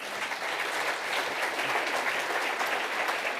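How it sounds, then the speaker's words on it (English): Conference audience at a Retina UK charity event applauds in a dense, sustained round of clapping that holds steady throughout, with no voices above it. "which I think deserves another huge round of applause"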